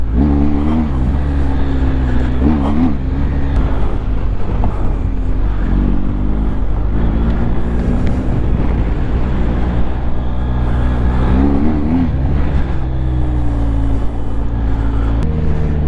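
A BMW GS motorcycle rides along a road, its engine droning steadily with low, continuous wind and road roar throughout; a few gear or rev shifts rise briefly over the steady rumble.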